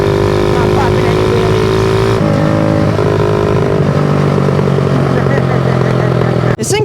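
A small 50cc Yamaha kick-start motorcycle drones loudly and steadily while being ridden, with the pitch shifting as it changes gear and a voice talking over it.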